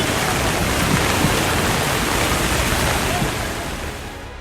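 Rushing floodwater after heavy rain in Nepal and Bihar pours as a dense, continuous roar, loud and close, easing slightly toward the end.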